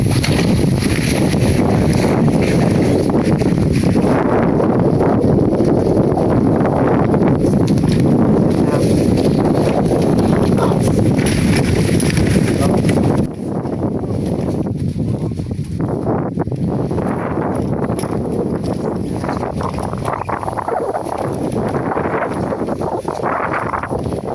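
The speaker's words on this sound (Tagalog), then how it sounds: "medyo mga hangin nga ngayong araw dahil may paparating yatang bagyo" Strong wind ahead of an approaching typhoon buffets the microphone in continuous gusts, roaring loudly before easing a little partway through.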